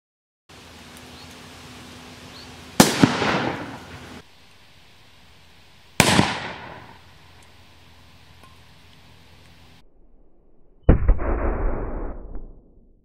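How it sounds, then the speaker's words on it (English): Three violent blasts from chloroform reacting with 3 milliliters of caesium metal in a steel cup, each a sharp loud bang with a decaying rumble, spaced a few seconds apart over steady background hiss. "we decided to repeat the reaction with chloroform, which is less toxic and explodes just as well, but this time with 3 milliliters of caesium metal"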